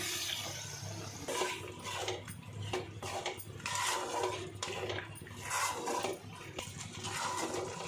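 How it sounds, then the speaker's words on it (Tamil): Water pours into a cooking pan of ground paste while making green chicken varuval, a steady close splashing and hissing that runs the whole time with no talk. "கொஞ்சமாக தண்ணி சேர்த்துக்கலாங்க."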